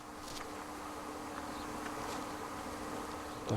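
Steady insect buzzing fills the background, a continuous drone with faint rising whines, like bees swarming close by at apiaries in Yemen, with a brief bump near the end.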